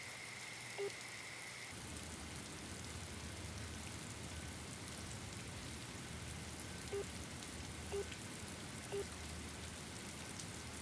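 Steady rain falling outdoors in a Hindi thriller scene, a continuous dense hiss throughout with a few faint ticks and distant hum, no voices.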